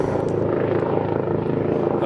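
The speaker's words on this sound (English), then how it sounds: "That's the rescue helicopter." A rescue helicopter flying overhead, giving a steady loud rotor drone with a low, continuous thrum that holds throughout.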